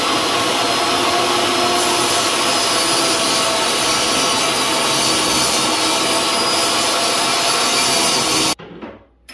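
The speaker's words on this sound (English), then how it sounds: "I'm going to be using a table saw for this" A table saw rips through pieces of wood for a breadbox, a loud continuous whining cut that stops abruptly near the end as the blade spins down.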